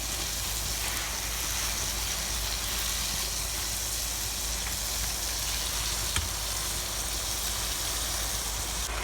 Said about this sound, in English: And then we're going to let it saute just a bit.